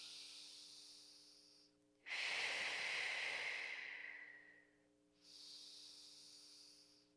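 Steady circular yoga breathing: a long, loud, hissing breath through the nose or mouth follows a softer one and leads into another, an even rhythm without pauses over a faint constant hum.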